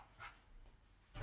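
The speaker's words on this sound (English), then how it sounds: "my dog's barking" A dog barks faintly in the distance, a couple of short muffled yaps spread across a second or so, with a louder bark at the end.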